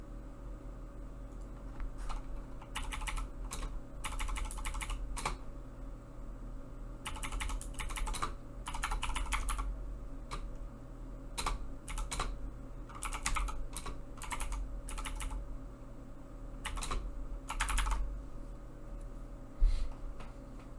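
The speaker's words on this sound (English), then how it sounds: "I can see you typing" Typing on a computer keyboard, bursts of quick clicking keystrokes with short pauses between them, close and fairly quiet over a low steady hum, no voices.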